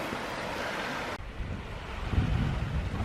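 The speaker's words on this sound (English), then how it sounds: "just the running water" Running water of a stream beside a little bridge on a countryside ramble near gorse, a steady close rushing wash with some wind buffeting mixed in.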